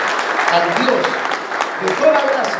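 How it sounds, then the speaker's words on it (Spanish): A church congregation applauds, a dense patter of many hands under a preacher's voice. "Démosle un fuerte aplauso al Dios"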